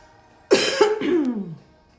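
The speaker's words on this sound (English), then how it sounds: "Sorry for coughing in your face." One close, loud cough breaking into a couple of rough bursts, then trailing off into silence.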